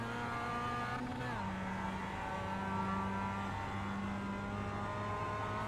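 A Mazda MX-5 race car in iRacing holds full throttle, its engine droning steadily at high revs with a brief pitch dip, while someone talks over it.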